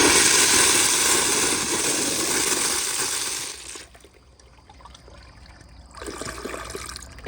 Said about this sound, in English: let me just go ahead and turn the pressure back down, and I'll give you all more of a close-up flush